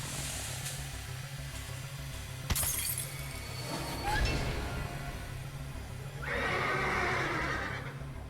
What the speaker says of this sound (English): Like, the horse sound, too, is so weird.